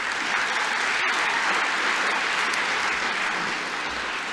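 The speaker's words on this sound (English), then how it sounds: "So I think they deserve a big round of applause." An audience at a Melbourne Polytechnic graduation ceremony claps steadily in a large hall, a dense sustained round of applause at an even level without cheering.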